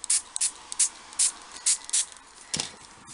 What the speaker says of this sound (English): And then I'm going to spray some water.